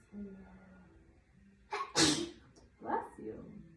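A single sharp sneeze near the middle, preceded by a quick inhale and followed by a softer breathy sound in a quiet room during a yoga session.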